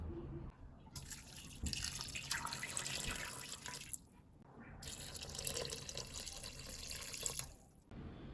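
Cold water splashes from a tap into a pot of meat, a continuous loud pouring and gushing with two short pauses as the flow stops and restarts.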